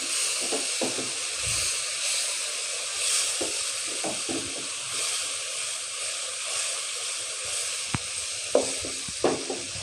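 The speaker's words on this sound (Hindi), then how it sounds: "अच्छा सा मसाला भून लें।" Masala for palak gosht fries in a pan with a loud, steady sizzle and hiss, with occasional stirring scrapes and small pops, close and continuous.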